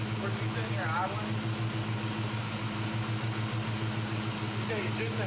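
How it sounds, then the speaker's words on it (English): A carbureted engine idles steadily up close, a continuous low rhythmic hum with voices speaking over it. "for it to be sitting here idling"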